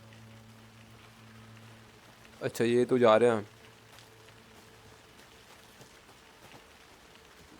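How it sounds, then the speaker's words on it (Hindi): Steady rain patters softly across the night setting of Alan Wake 2 gameplay, a low continuous hiss that runs throughout while someone briefly speaks over it. "ये क्या बारिश भी होने लग गई अभी तो?"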